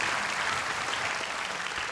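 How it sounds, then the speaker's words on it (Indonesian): A studio audience at a televised Indonesian Quran memorization competition applauds, dense sustained clapping at an even level throughout, with no voices. "Buat tepuk tangan untuk Zuhro."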